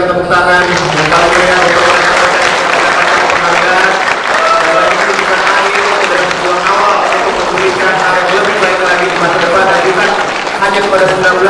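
Audience applause at a night-time award ceremony in Indonesia, loud and dense throughout with a crowd's murmur, under a voice talking over a PA system.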